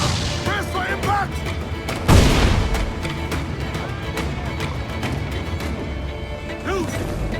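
Ship broadside cannon fire in Assassin's Creed 4 booms loudly with one heavy blast mid-clip, surrounded by ongoing naval battle clatter, crashing impacts and shouted crew voices.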